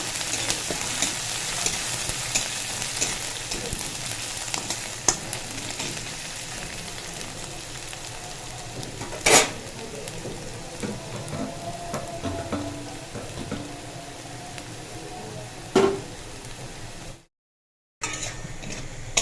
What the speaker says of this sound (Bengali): পেঁয়াজ আর রসুনটা ভালো করে ভাজা হয়ে গেছে